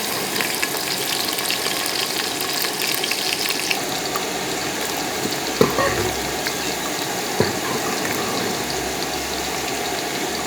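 Onions fry in ghee in a pot over a village stove, with a dense, even sizzling hiss throughout, a low rumbling hum underneath and a couple of brief knocks.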